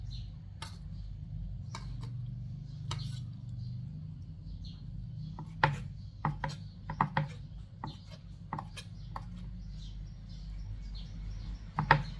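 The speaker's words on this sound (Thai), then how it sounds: "หนังหมูไปต้มแล้วเราก็เอามาหั่นนะคะ" A knife slices through boiled pork skin on a cutting board for a Thai larb moo dish, giving a series of sharp, close taps and chops that start sparse and grow more frequent, over a low steady background hum.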